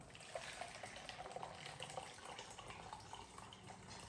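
Pickle marinade liquid is poured off into a measuring container in a kitchen, a quiet, steady trickle and splash of liquid with faint, intermittent gurgles throughout.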